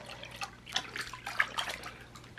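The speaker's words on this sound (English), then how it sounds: "Put your hands in the water and rinse them off." Hands rinsed in a basin of water, soft scattered splashes and drips at close range, quiet and irregular.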